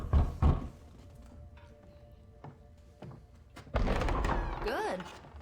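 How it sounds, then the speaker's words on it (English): A door knock in the game Marvel's Midnight Suns, a few short dull thuds early on, followed by quiet ambience and then a louder stretch of game sound with a rising and falling tonal sweep. "Someone's at the door."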